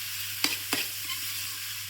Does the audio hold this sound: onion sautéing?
yes